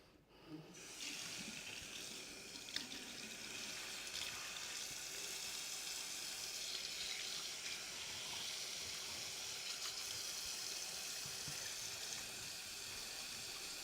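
Tap water runs in a steady, broad hiss while hands are washed, starting abruptly and continuing unbroken at moderate level with a few small clunks, no talking.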